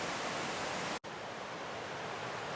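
Simpson River water flows steadily beside a backcountry campsite with a cabin and corrals, a continuous broadband rush that holds loud and even except for a single brief dropout near the one-second mark.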